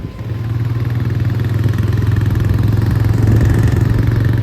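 A motorcycle engine runs steadily close by, a low, even idle throb with a faint clatter that holds at the same loudness for several seconds, with no talking over it.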